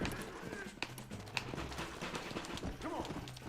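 Rapid hoofbeats of a galloping horse clatter amid game noise in Red Dead Redemption, with gunshots and shouting voices layered on top.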